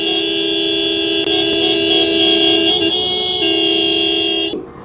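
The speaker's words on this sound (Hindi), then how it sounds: "इसी तरीके से 1 मिनट हॉर्न बजाकर चक्का जाम को समाप्त किया गया" Several vehicle horns blare together in a long, continuous honking chorus during a road-blockade protest, loud and steady, then cut off abruptly near the end.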